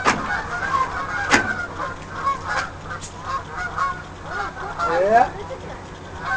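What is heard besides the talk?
Canada geese honking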